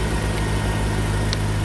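A Mercedes W204 car engine idles steadily after a jump start, giving a continuous low hum with a faint rhythmic pulse.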